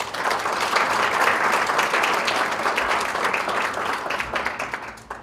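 Loud, dense audience applause for a panelist at a conference panel, sustained clapping from a full hall that thins out toward the end.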